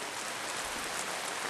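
Rain pours onto a canopy sheltering a group during a rainy outdoor expedition, a dense, even hiss of drops drumming steadily throughout with no voices.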